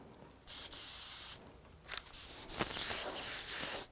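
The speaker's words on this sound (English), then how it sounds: "as I'm spraying, I'm diminishing the supply of my red candy" A spray gun applying red candy paint hisses in steady bursts, a short blast followed by longer continuous sprays that rise and fall in intensity, close by with no talking.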